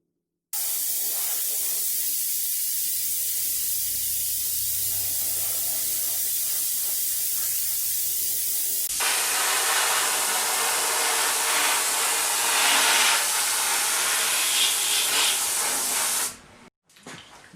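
A spray gun applying medium brown stain for a mandolin sunburst gives a loud, steady hiss, then shifts to a brighter, harsher spray partway through and cuts off near the end.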